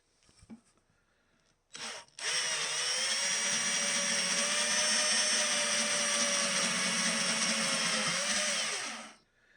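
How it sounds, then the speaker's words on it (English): A power drill bores a long hole angled downward into the middle of a Telecaster-style guitar body, starting with a short spin-up, then running as one steady, loud whine for about seven seconds before winding down. "I'm going to drill a hole right in the middle"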